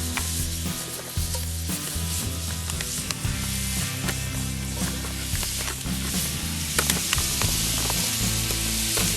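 Onions and celery sizzle and fry steadily in a Dutch oven over an open fire outdoors in the Adirondacks, with occasional stirring scrapes and a low crackle throughout, no voices.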